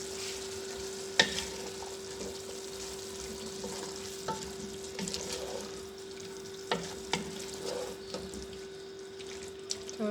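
Keema mixture with soy sauce being stirred and fried in a pan, with a steady soft sizzle and scattered spoon scrapes and clinks throughout, alone and fairly quiet.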